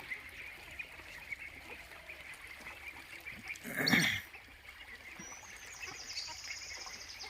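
Ducks at a farm pond give one loud, close honking quack burst midway through, over faint, steady outdoor background noise.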